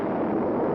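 Atomic bomb test blast in the Nevada desert, a loud, dense roar of broadband rumble sustained without break for under a second, no voices.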